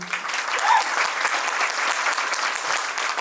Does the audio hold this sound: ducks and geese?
no